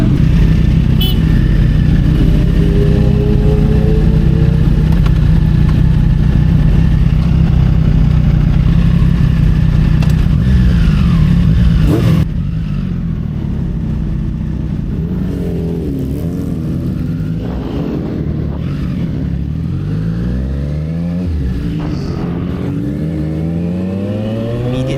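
A Triumph Street Triple motorcycle rides on Michelin Power GP2 tires, its engine a loud, steady drone with wind rush at first, then easing to a lower hum with rising and falling revs through the rest.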